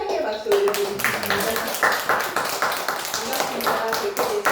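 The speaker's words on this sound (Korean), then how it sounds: "우리 함께 환영의 박수 올려드리겠습니다" Applause from a Korean church congregation welcoming a visiting elder during a Sunday service, a steady patter of many hands clapping throughout, with some voices and background sound mixed in.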